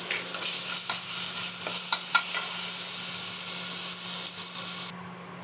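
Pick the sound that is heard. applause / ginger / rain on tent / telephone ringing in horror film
ginger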